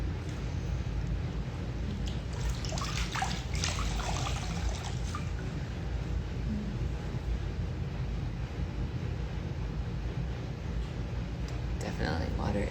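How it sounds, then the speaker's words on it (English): Water trickling and flowing steadily for a long stretch, a continuous soft wash with occasional brighter splashy droplets, close and calm with no talking over it. "Definitely, water is so soothing."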